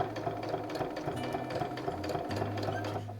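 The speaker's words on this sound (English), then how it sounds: "just lay this down flat and sew down in that ditch" A sewing machine stitches bias binding down in the ditch, running at a steady, close, continuous hum with a fast rhythmic needle chatter and no talking over it.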